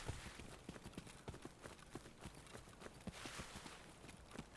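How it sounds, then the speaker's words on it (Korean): Footsteps at a gas station in Escape from Tarkov, a steady run of soft, repeated thuds heard at a distance, with no talk over them. "주유소에서 발소리"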